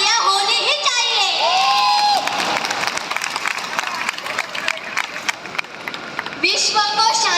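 A large audience at a ceremony in Lumbini, Nepal, claps and cheers loudly for several seconds, with dense applause and shouting voices, while someone speaks over a loudspeaker at the start and end.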